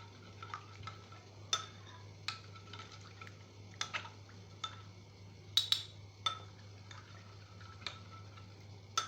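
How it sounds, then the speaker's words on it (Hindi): Wheat flour is stirred into milk in a bowl, producing quiet repeated clicks and taps of a spoon or whisk against the bowl in an irregular rhythm over a low steady hum. "उसमें दूध डालेंगे और साथ ही गंदम का आटा थोड़ा थोड़ा करके डालते जाएंगे और मिक्स करते जाएंगे"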